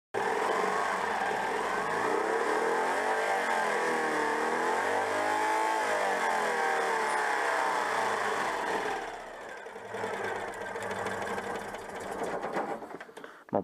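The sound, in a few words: Citroën 2CV engine running and idling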